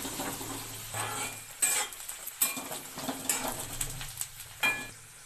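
Onions fry in a pan with a soft, steady sizzle. A utensil scrapes and clinks against the metal in several quick, uneven strokes, fairly faint and close with no talking.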